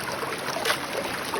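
Water runs through a gold sluice box on the South Yuba River at a strong flow. A close, continuous rushing and trickling wash fills the short stretch.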